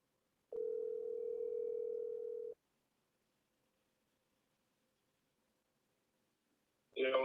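A steady telephone dial tone sounds for about two seconds while someone places a call to a friend for help with a quiz question, followed by quiet and then a short burst of other sound at the end.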